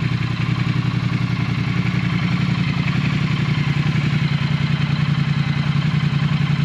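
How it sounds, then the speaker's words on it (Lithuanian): A Triumph Thruxton 1200R motorcycle engine idles steadily close by, with an even, rapid low pulse and light mechanical clatter throughout. No one speaks. "Taip, variklio darbas yra labai gražus, kol kas negirdim jokių nei kalimo, nei kažkokių tai traškesių"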